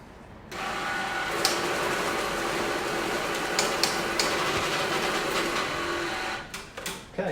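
A GFR PRO note and ticket counting machine runs with a steady, close mechanical whir, punctuated by brief ticking clicks, before it winds down and stops near the end.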